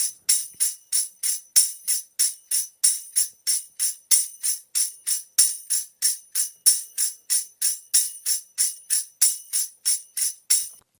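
A drum loop with 7% timing randomization plays as a fast, bright hi-hat-like pattern of crisp repeated hits, steady but slightly uneven in spacing and accent, with no talking over it.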